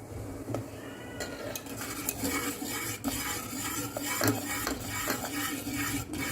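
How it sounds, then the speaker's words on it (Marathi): A utensil stirs rice flour paste into boiling water in a pot, giving continuous scraping and clinking with a busy, close texture and no talk. "थोडंसं थोडंसं टाकून घ्यायचं आहे आणि मिक्स करत राहायचं आहे"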